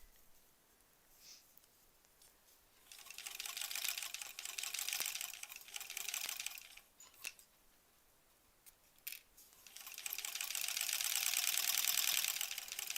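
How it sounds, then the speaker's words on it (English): A sewing machine stitches a foundation paper-pieced quilt block seam with tiny stitches, two long runs of rapid, even mechanical chatter separated by a quiet pause with a few clicks, close and steady. "Alright, so I'm going to sew right through"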